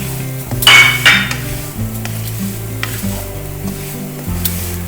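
Semolina stirred and fried in desi ghee, a loud close sizzle with scraping spoon strokes and occasional clinks against the pan, no talking.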